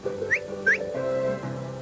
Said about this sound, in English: And there's one for left.